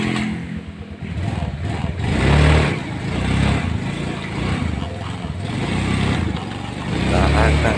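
A Honda Beat scooter engine runs close by after a carburetor repair, putting out a rough, wavering mechanical drone with uneven surges, and a little background talk mixed in.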